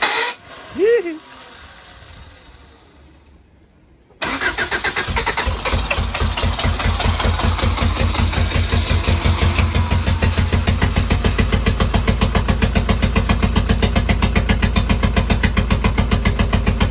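A freshly swapped DOHC ZC engine cranks and catches after a few quiet seconds. It then settles into a loud, steady idle with a fast, even pulsing beat that carries on unaided.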